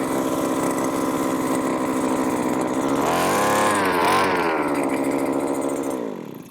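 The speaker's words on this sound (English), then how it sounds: "the ice auger, because you kind of need this to put a hole in the ice" A gas-powered two-stroke ice auger engine, primed and choked, runs steadily at close range with a loud buzzing drone that rises briefly in pitch as it revs, then cuts off at the end.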